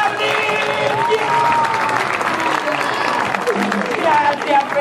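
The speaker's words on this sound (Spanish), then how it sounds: "¡Quién sigue aplaudiendo!" A live magic show crowd in Alcorcón applauds and cheers continuously at close range, the clapping dense and steady beneath a loud voice talking over it.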